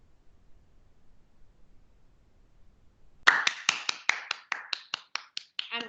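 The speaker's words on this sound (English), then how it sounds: "I'm clapping on behalf of our audience." One person claps alone after a near-silent stretch, a run of about a dozen crisp, close claps that start loud and quicken slightly before tapering off.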